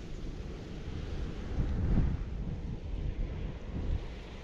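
Gusty wind buffets the microphone on a golf course green beside water, a steady low roar that swells and eases, with no voices.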